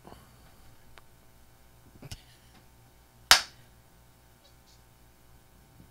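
A single sharp clap rings out in a quiet room with a low electrical hum, preceded by a fainter tap a moment earlier.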